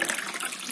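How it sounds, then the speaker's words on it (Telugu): Water poured into a pressure cooker holding sorghum grains, a short, steady splashing pour. "2 పావులు వాటర్ పోసేసుకుందాం."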